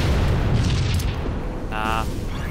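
Bomb exploding in Halo 3 multiplayer: a heavy, sustained rumbling boom fills the whole moment, loud and close, with a brief electronic game tone partway through.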